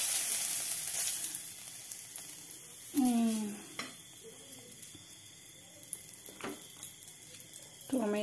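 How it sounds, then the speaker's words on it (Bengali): Cumin seeds sizzling in hot oil for tempering, a crackling frying hiss with stirring and clinks of a pan, moderately close, while a person talks over it. "ফোড়ন দিয়ে দিলাম জিরে"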